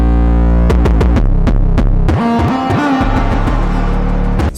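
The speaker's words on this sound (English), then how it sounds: "I also automated my reverb, so it counts up only in this section." A loud, deep 808 bass line of booming sub-bass notes with gliding pitch slides, set among punchy percussive hits, with reverb automated to swell only in this section, playing continuously with no voices.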